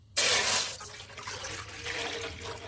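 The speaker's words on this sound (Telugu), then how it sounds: "ఈ కప్పుతో ఈ గిన్నెతో వాటర్ పోస్తానండి" Water splashes from a bowl into a cooking pot on a stove, starting with a sudden gush and settling into a steady, bright pouring and sloshing that runs for several seconds, with no talking.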